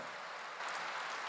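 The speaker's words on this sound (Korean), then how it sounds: "후회 없는 삶을 사는 걸 믿으면 박수야" A church congregation claps together during a Korean worship service, a dense, steady wash of many hands sustained at an even level for the whole short stretch, with no voices over it.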